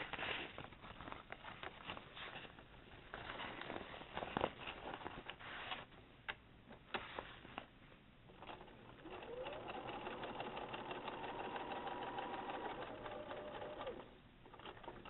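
A sewing machine stitches the second side of a reinforcement X, a fast, steady mechanical chatter, faint and close, with a few clicks and a brief pause near the end.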